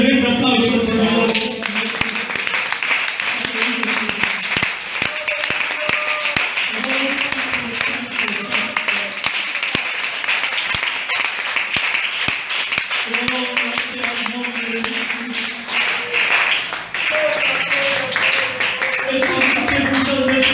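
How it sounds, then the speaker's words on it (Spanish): Congregation at a Christian worship service clapping in praise, a long stretch of applause under a voice that keeps speaking and calling out over it. "¿Cómo no darle un tremendo aplauso al Señor?"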